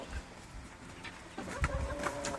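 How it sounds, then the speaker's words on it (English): Chickens in a backyard pen give soft, close clucks and low murmurs, with a few sharper calls near the end. "Chickens."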